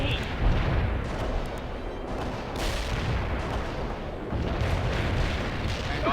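Enemy mortar fire in the video game World in Conflict rumbles as a series of heavy, muffled booms and bursts over a dense low battlefield roar, with a sharper crack near the middle and a voice faintly underneath.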